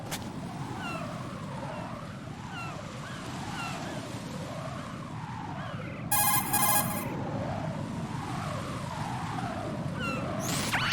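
A cell phone rings in Metal Gear Solid 2, a short patterned electronic ring cutting in over a steady sea-like ambient bed with rolling musical tones, standing out loudly for about a second.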